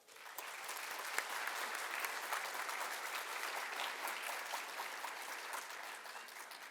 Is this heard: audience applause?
yes